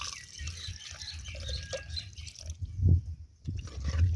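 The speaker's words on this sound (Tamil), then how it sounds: "இப்போ தேவையான அளவு கொஞ்சம் தண்ணி ஊற்றிக்கலாம்" Water is poured into a pot of mutton curry with turmeric and salt, making soft, irregular splashes and low sloshing thuds that stay fairly faint, with no talking.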